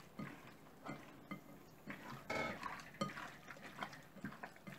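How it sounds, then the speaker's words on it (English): Beef biryani marinade with ginger garlic paste is stirred in a metal vessel, giving a steady run of clinking, scraping spoon strokes at close range with no talking. "Mix all this well and marinate for about 30 minutes."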